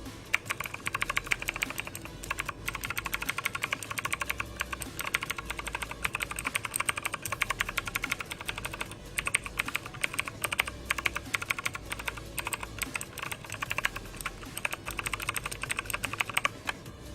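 Rapid, continuous typing on a NUBWO Ultimate NK60 mechanical keyboard, crisp, high-pitched clacky keystrokes close up with no talking.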